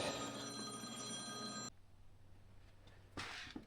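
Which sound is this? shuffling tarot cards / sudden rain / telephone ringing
telephone ringing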